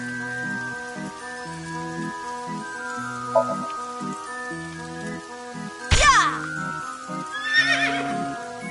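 A merry-go-round horse in a video game gives a clear synthetic neigh midway, a sharp whinny burst, followed by a second fainter whinny near the end, all over steady carousel-like game music.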